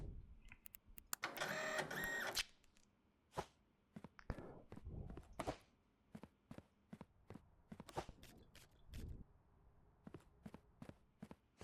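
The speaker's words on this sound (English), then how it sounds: "Printer." Label printer in the video game Parcel Simulator whirring through a print for about two seconds near the start, followed by a run of sharp clicks and thumps of game activity.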